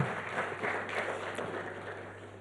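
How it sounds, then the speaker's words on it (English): Audience applause at a business breakfast meeting, a steady wash of many hands clapping at moderate, fairly distant level, sustained throughout with a low constant hum underneath. "Another round of applause for Mr. Al-Hassan Andani,"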